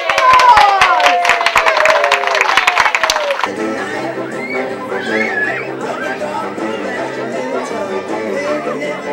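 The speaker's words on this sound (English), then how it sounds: "Give him a round of applause." An audience claps at a children's beach story show, with bursts of sharp claps and cheering in the first seconds, then fading into chatter and children's voices talking.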